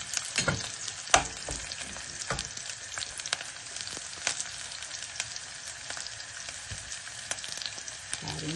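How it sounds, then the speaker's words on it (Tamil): Green chilies sautéing in a pan for a dry fish curry, a steady bright sizzle close up with scattered crackles and occasional scraping stirs, no voices. "பச்சை மிளகாய் எல்லாம் வதங்கி கொண்டிருக்குது."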